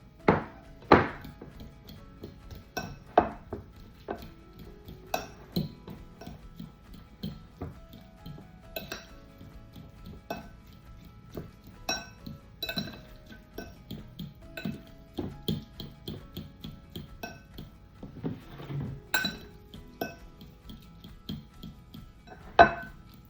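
Avocado is mashed in a bowl for guacamole with a utensil: irregular clinks and soft thunks of metal against the bowl repeat throughout at close range, with no talking.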